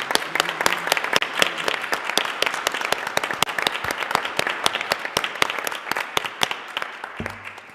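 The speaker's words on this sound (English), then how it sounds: "Let's have one more round of applause for Shannon." A round of applause at a town council meeting, with many hands clapping in a steady, crisp rhythm of distinct claps throughout, moderately loud and sustained without talk.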